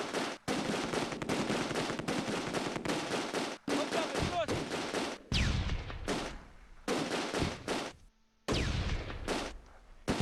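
Machine gun fire in the Close Combat II war game, a 30 cal firing from a two-story building, heard as long, loud, rapid bursts split by brief silences, with a heavier blast and ringing tail near the middle.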